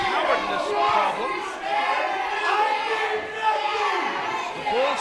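A wrestling crowd at an IZW show shouting and jeering at Aaron Neil, loud chanting voices rising and falling in waves through the whole stretch.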